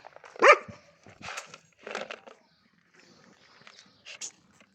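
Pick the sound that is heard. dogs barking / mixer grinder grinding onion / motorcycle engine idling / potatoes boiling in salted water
dogs barking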